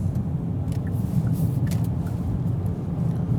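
Kia EV3 electric car heading up onto the highway, heard from inside the cabin as a steady, fairly loud low road rumble and tyre drone with no engine note.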